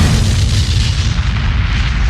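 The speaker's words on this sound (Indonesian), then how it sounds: "saat roket dinyalakan terjadilah ledakan" A rocket blows up on ignition as its fuel drifts toward the rear of the craft, a loud, deep rumbling blast that roars continuously and heavily throughout.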